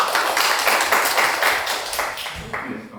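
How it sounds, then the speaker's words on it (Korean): Audience at a panel discussion applauds as a Yonsei University sociology professor is introduced, with a burst of dense clapping that gradually fades out over a few seconds. "큰 박수로 해주시겠습니다."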